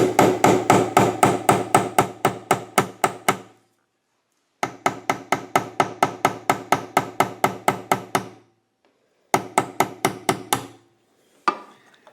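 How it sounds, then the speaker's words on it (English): Gentle hammer taps seat an extended-run fuel kit part on a Honda EU7000iS generator, coming as three close bursts of quick, even knocks separated by short pauses, loud and near with no talking. "But what we're going to do is just gently tap it into place."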